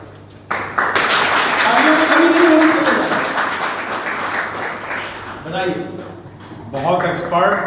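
Loud sustained applause from a crowd, steady clapping for several seconds that thins out as a voice speaks over it.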